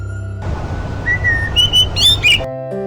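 An injured cartoon bird lying on the ground lets out a short series of high, thin chirps over a hissy background wash. The chirps start with one sustained whistle and quicken into several quick, rising tweets.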